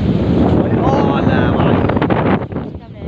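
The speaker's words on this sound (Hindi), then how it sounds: "भयंकर हवा चल रही है" Strong gusts buffet the microphone outdoors under a darkening sky, a loud continuous rumble that briefly eases near the end.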